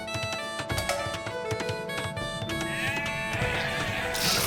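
Sheep in Age of Empires II bleat several times amid game sound effects and a musical score, the calls fairly clear over a busy, moderate background.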